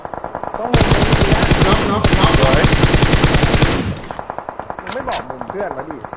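Loud automatic gunfire in the mobile battle royale game PUBG Mobile during a scrim match, long rapid bursts of close machine-gun fire followed by scattered shots, with players talking over it.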